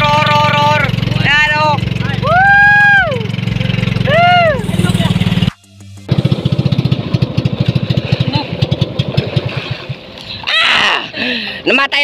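The motor of a small boat on a river outing runs with a low, steady hum under loud shouting and whooping. After a short drop-out, the engine returns with a quick, pulsing chug that carries on to the end.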